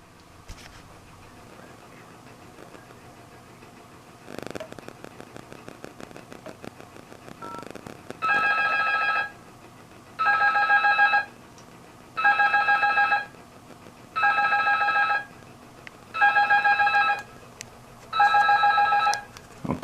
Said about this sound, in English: Okay, the Sentry's ringing, you can hear it.